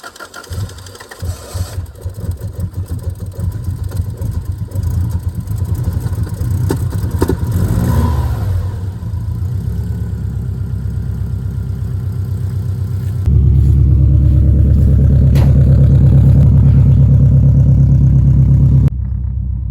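A Subaru GC8 STI of some age, close up, runs with a steady engine drone, then settles into a louder, even rumbling idle for the final stretch before cutting off abruptly.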